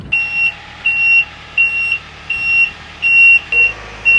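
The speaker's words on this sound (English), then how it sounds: "I wonder if there's a way to unhook that beeper" Reversing beeper on a Magni RTH 6.35 rotating telehandler, a loud, close electronic tone repeating about six times in an even rhythm over a low engine rumble.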